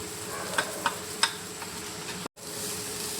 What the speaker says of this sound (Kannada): ಜೀರಿಗೆ ಪೌಡರ್ ಮತ್ತು ಧನಿಯಾ ಪೌಡರ್ ಹಾಕಿ ಸ್ವಲ್ಪ ಹೊತ್ತು ಫ್ರೈ ಮಾಡೋಣ